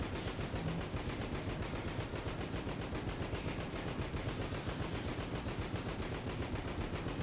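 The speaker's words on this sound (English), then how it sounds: "I can still hear the explosions going." Rapid, nonstop gunfire and explosions from the video game Enter the Gungeon keep up a dense, loud, unbroken barrage without pause.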